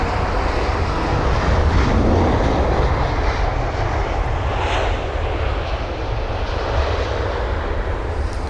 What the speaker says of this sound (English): there's the Aer Lingus jet